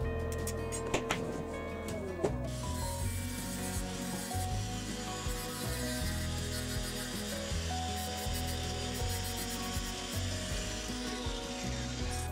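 Grinder cleaning up welded seams on a metal part, a continuous rough abrasive rasp with shifting pitch, fairly quiet and steady throughout.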